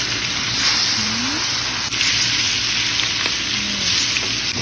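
Flour-dusted fish caught ice fishing, among them tuna and salmon, fries in hot oil in a pan with a loud, steady, close-up sizzle, broken only by a brief soft clink.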